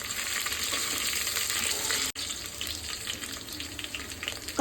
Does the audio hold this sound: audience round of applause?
no